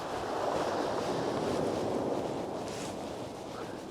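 Steady wind buffets the microphone on a Bristol Channel beach during shore fishing, a constant broadband roar with faint surf underneath, loud and unbroken throughout with no talk.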